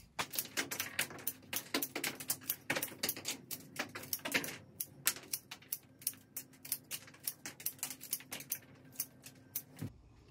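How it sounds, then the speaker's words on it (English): Scissors trim the stems of a flower bouquet with a quick run of crisp, close snips and clicks that slows toward the end. "I'm going to take my scissors, I'm going to do an initial cut of all these stems to about the same length."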